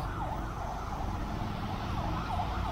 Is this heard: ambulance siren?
yes